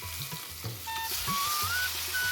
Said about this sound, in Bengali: এভাবে আমি সবগুলো মাছ ভেজে নামিয়ে নিলাম।